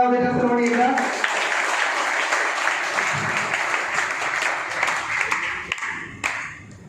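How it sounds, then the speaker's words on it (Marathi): Audience applause at an academy anniversary event, sustained crowd clapping following a brief spoken announcement, filling the hall and slowly fading near the end. "जोरदार टाळ्या वाजवण्याच्या सर्वांनी एकदा"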